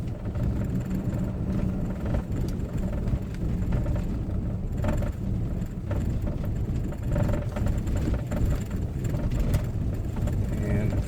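A car descends a snowy hill in second gear on a Colorado road after a blizzard, its steady engine rumble and road noise droning throughout, with a voice talking over it.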